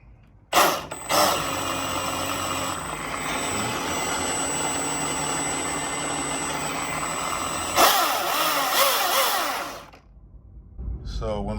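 A small chainsaw motor runs loud and close, held steady near full throttle on a variable speed trigger, then surges and cuts off near the end. Brief talk follows.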